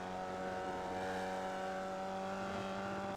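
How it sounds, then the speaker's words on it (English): Formula Vee race car in iRacing at Okayama Short, its engine holding a steady, loud buzzing drone with strong harmonic whine as it accelerates, close and continuous with no talk. "I'm accelerating again way before I reach the inside curb"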